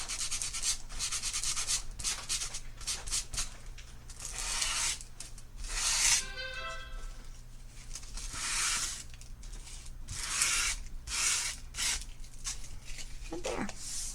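Sandpaper rubs back and forth over a small pink paper strip to distress it, in repeated close, quiet scratchy strokes with short pauses between them, while a person talks softly.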